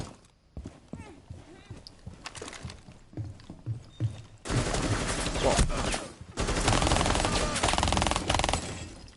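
Rapid automatic gunfire with heavy recoil in Rainbow Six Siege, the Phantom Sight update, starts as scattered shots, then becomes long, loud, dense bursts with brief pauses.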